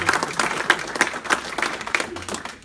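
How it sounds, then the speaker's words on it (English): Audience applause at a Vesak celebration: a short burst of crowd clapping, dense and fairly loud, fading slightly toward the end. "So please give him one more round of applause."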